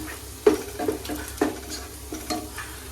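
Curry leaves hit hot oil with a soft sizzle, and several sharp crackling pops sound close by over a low steady frying hiss.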